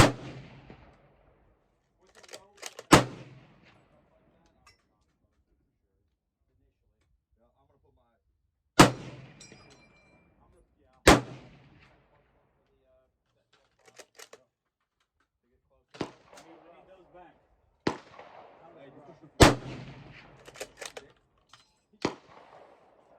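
Savage 110 Tactical rifle shots ring out outdoors, a handful of sharp, loud cracks spaced several seconds apart, each with a short decaying tail, while people talk quietly between them.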